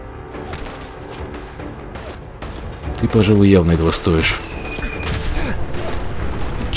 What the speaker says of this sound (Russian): Выстрел с толстяка.